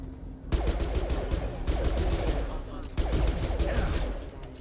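Gunfire in Mass Effect 2 Legendary Edition on PC: rapid, sharp bursts of automatic shots rattling in quick succession, with brief pauses between volleys and loud, close impacts.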